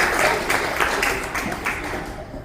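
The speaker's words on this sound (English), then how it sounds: "Please give her a warm round of applause so she can feel ready." Warm audience applause at a women's dinner meeting, a dense burst of clapping that is loud at first and gradually thins and fades.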